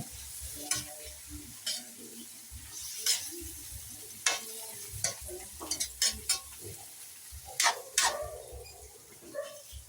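String beans simmer and sizzle in a pan as broth goes in, with stirring scrapes, clinks of utensil on metal and bubbling crackles in an irregular pattern, close and moderately quiet, no talk.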